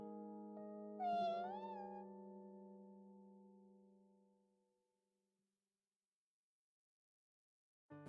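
A pet cat gives one clear, close meow with a rising, wavering pitch, heard over a steady background hum that fades out, followed by a brief noise at the very end.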